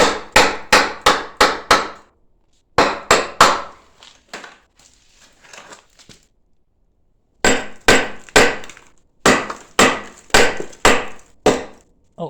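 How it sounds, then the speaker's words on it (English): A hammer pounds the rusty metal of a Mercedes-Benz diesel truck in loud, sharp bursts: a rapid run of about five blows, a pause with lighter taps, then a longer series of around ten strikes. "I've been hammering away. I'm going to get the rust out of it"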